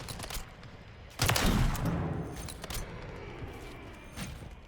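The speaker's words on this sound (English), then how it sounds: "I think all they're doing is shooting down the VTOL." Gunfire in Call of Duty MW3 as players shoot down a VTOL aircraft, heard as a sudden loud burst of shots that slowly fades into lighter scattered reports and mechanical clatter.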